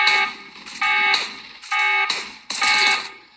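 An alarm blares in a zombie video game scouting event in Uncharted Territories, four loud repeating electronic bursts with short gaps between them, close and dominant.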